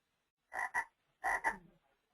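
A frog croaks in two quick double bursts, played cleanly as a sound clue in a listening lotto game, with silence around them.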